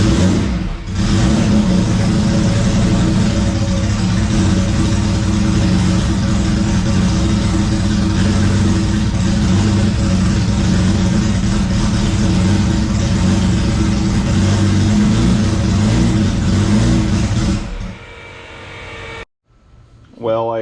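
A Camaro engine, running again after fresh spark plugs were gapped, roars loud and steady in a shop with a dense, sustained rumble for about seventeen seconds, then cuts off abruptly, leaving brief quiet and a faint sound at the end.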